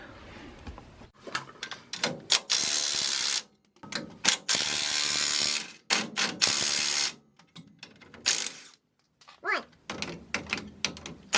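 A hand ratchet clicks in rapid repeated strokes, close and loud, as U-bolt nuts on a Dana 50 axle are broken loose, with short pauses and a few metallic clanks between bursts.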